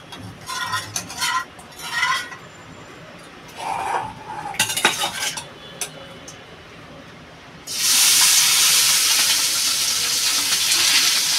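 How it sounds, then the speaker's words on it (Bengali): Taingra fish dropped into hot oil for a pumpkin-greens curry, bursting into a loud, steady sizzle that runs for the last few seconds after some earlier clinks of utensils. "আমার তেলটা গরম হয়ে গেছে, আমি এবার মাছটা দিয়ে দেবো।"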